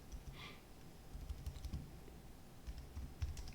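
Faint keystrokes on a computer keyboard in a quiet room, a scattered run of light clicks with short pauses as someone types a question.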